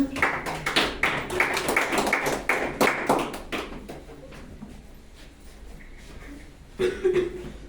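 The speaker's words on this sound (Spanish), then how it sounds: "Vamos a darle un fuerte aplauso para el Señor" A church congregation claps for the Lord during a Spanish-language service, a burst of brisk, close hand claps that thins out after about three seconds into quiet room tone, with a faint voice near the end.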